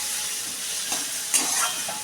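Brinjal pieces seasoned with salt and turmeric fry in hot oil with a steady, loud sizzle and a couple of brief hissing bursts, with no voices.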